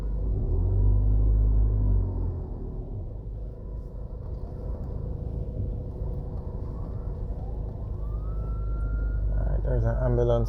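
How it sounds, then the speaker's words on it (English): An ambulance siren starts to rise and wail near the end as it passes on a main road beside highway construction in St Thomas, Jamaica, above a constant low rumble of traffic and engines. "There's an ambulance coming through"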